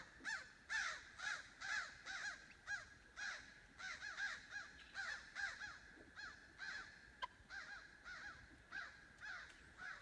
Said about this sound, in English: Oh, there's some birds up above.